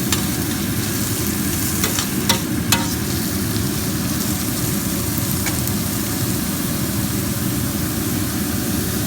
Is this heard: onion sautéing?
yes